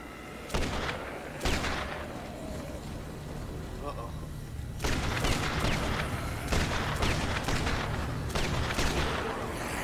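Gunfire in the zombie video game Dead Rising 3, a series of sharp shots and bursts spread through the clip over a busy game soundscape, with a voice talking over it.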